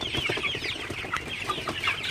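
Sonali chickens on a poultry farm in sticky summer heat cluck in quick, overlapping bursts, several birds calling close by with no talk.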